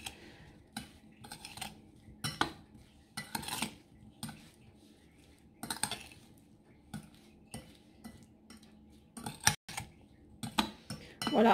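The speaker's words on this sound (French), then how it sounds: "Je vais mélanger mais vraiment délicatement." Strawberries are folded gently with sugar in a bowl, soft irregular clinks and scrapes of a utensil against the dish, close by, with quiet pauses between strokes.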